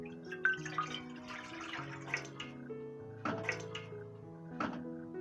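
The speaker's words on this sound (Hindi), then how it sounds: "देगची में मैं पानी ऐड कर रही हूँ तकरीबन 2 गिलास।" Roughly two glasses of water are poured into a metal cooking pot for steaming momos, a soft gurgling pour with a few faint drips and splashes, quiet and close, with no talking.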